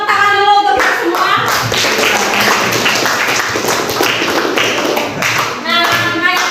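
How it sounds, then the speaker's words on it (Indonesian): Classroom applause in a teaching session, a group of students clapping briskly together after a teacher's voice, then speech resuming at the end. "Beri tepuk tangan dulu untuk kita semua."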